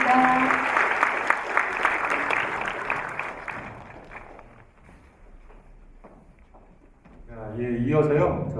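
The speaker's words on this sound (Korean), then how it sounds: "저분들에게 뜨거운 박수 한번 보내주시기 바랍니다" Warm applause from a lecture-concert audience at a talk concert with a novelist, fairly close and dense at first, then fading into a quieter stretch before voices and sound rise again.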